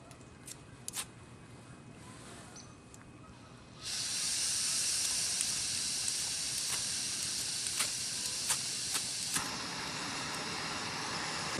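A small stovetop coffee pot brewing outdoors on a misty hike starts hissing loudly and steadily partway through, a broad sustained steamy rush with faint clicks, after quieter ambient sound.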